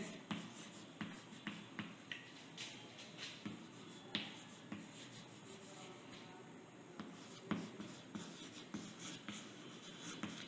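Someone writes on a board in a classroom during a physics lecture, producing a steady run of light scratching strokes and small taps, moderately close.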